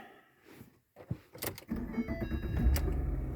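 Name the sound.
2010 Ford Fusion engine cranking and starting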